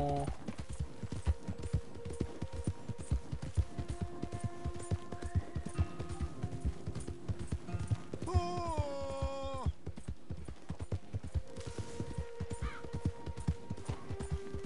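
Horse hooves clip-clop in a steady rhythmic gait while riding in the Red Dead Redemption 2 video game, continuous close footfalls with game music tones and a whinny-like sweep in the background.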